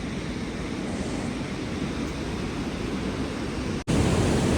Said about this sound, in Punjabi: ਇਧਰ ਨਦੀ ਆਉਂਦੀ ਆ ਉੱਤੋਂ ਪਾਣੀ